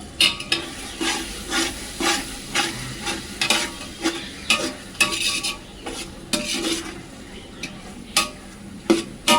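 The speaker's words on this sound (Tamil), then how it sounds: "புதினா நல்லா வதங்கி வந்துடுச்சு" Chopped mint sautés in a pan for Ambur-style mutton biryani made with basmati rice, giving a steady close sizzle broken by repeated scraping strokes of a spoon stirring it.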